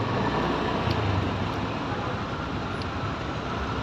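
Congested traffic on a city road in Pekanbaru, a dense continuous roar of engines and road noise heard from inside or beside the stalled flow, steady and fairly loud throughout.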